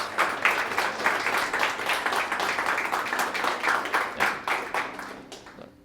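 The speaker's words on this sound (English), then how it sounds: "So give a round of applause to him too, please." Audience applause at an art exhibition opening: steady, dense clapping from a crowd indoors, loud and sustained for several seconds before tapering off, with no talk over it.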